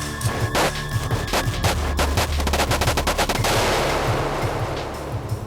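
Rapid gunfire rattles in a dense burst of sharp repeated shots over a low rumble, loud and close, then fades into a wash of noisy decay; no talking.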